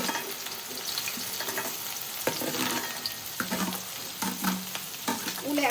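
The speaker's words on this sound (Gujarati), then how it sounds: "તો દોસ્તો તેલ ગરમ થઈ ગયું છે. હવે આપણે ડુંગળી શેકીશું મસ્ત." Onions frying in hot oil for a Punjabi dhaba-style paneer bhurji, a steady close sizzle broken by scraping, clanking stirs of a spoon against the pan, with no voices.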